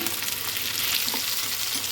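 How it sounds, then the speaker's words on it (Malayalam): Onion, green chilli and garlic frying in a pan with a little turmeric, a continuous close sizzle with light stirring, no voices. "അതിലേക്ക് സവാള പച്ചമുളക് വെളുത്തുള്ളി, വേറെ മുളക് പൊടിയൊന്നും ഇടണ്ട, കുറച്ച് മഞ്ഞൾപ്പൊടി മാത്രം ഇട്ടാൽ മതി."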